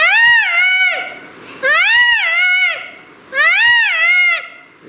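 A voice imitates the call of a wild dog (dhole), giving three long, rising-and-falling whistling wails with pauses between, loud and close, resembling a bleating animal cry.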